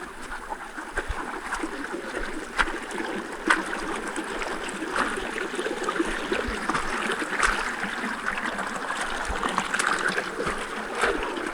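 Water runs steadily from a pipe at a roadside handwashing spot during the rainy monsoon season, a constant close trickling and splashing with a few sharper drips, no talk.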